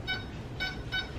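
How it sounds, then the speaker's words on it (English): A kitchen oven timer beeps three times at an even, quick pace while a Dutch baby pancake bakes at 425 degrees; the beeps are moderately loud over a low background hum, with no talking. "my timer is going off now"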